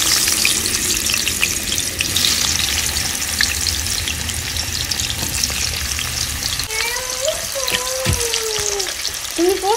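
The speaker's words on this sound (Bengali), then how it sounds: "এবার ভাজাগুলো করে নেবো" Bhaja fries in hot oil in a home kitchen, a dense, continuous close sizzle that fills the whole stretch, with a few faint whistling tones near the end.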